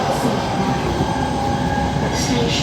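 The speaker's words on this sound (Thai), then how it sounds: "กับขบวนรถธรรมดาขบวนที่ 207 นะครับ" Ordinary train no. 207, bound from Bangkok toward Nakhon Sawan, rolls through Taling Chan Junction station in Thailand. A loud, steady rail rumble with wheel and track noise carries throughout, and faint squeals rise near the end.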